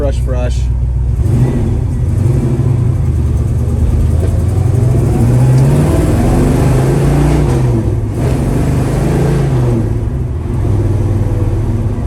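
A 1967 Chevrolet Chevelle accelerates through the gears on a road drive, its engine note rising and dropping in repeated shift cycles, heard steadily from inside the car with some background rumble.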